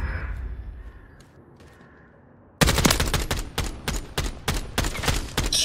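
Video game gunfire: a quiet, hushed stretch, then suddenly loud, close automatic bursts of rapid shots that keep going in a steady rhythmic rattle.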